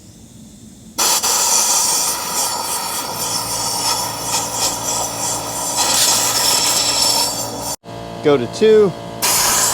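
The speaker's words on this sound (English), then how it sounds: "I'm just gonna stick this air compressor in there" Compressed air blasts into the cylinders of a 1976 Honda CB550 motorcycle engine that has sat unridden for 48 years, a loud steady hiss running several seconds, briefly cutting out, then resuming in short bursts with a voice speaking over it.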